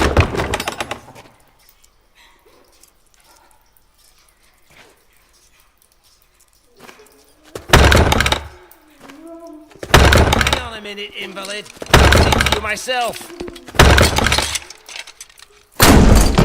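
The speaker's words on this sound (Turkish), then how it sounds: "Yumruk atıyorum tekrar kapıya." Heavy punches slam into a door in the audio game A Blind Legend, several loud booming and cracking impacts in bursts separated by quieter stretches, with voices and effects in between.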